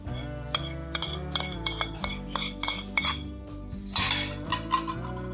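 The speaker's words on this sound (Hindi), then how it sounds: "इनको मिक्स करेंगे अच्छी तरह।" A spoon clinks and scrapes against a bowl in quick, uneven bursts while spices, lemon juice and onion are mixed for a chicken biryani, close and fairly loud over soft background music.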